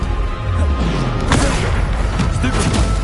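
Spell explosions in the video game Hogwarts Legacy, a dense continuous rumble of booms and crashing impacts that stays loud throughout with no pauses.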